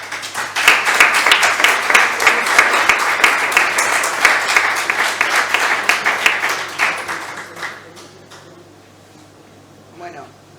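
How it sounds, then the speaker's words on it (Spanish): An audience applauds after short stories are read aloud at a creative writing workshop event. Dense, loud clapping holds steady for about seven seconds, then thins out and fades to scattered claps. "comienzan los aplausos."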